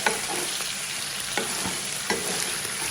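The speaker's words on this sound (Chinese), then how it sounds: "然后快速的翻拌。" Pork bones coated in caramelized sugar are stir-fried quickly in a hot wok, giving a steady close sizzle broken by a few sharp scraping stirs of the spatula.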